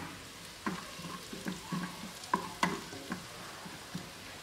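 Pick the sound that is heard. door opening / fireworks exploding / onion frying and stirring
onion frying and stirring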